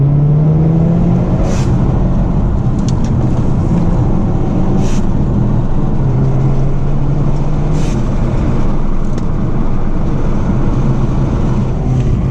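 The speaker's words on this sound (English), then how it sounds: "I did put a blow-off valve in this so you could kind of hear a little blow-off." Hyundai Veloster N sports car fitted with an aftermarket blow-off valve, engine droning loudly and steadily throughout with a few brief sharp hissing whooshes from the valve standing out over the running engine.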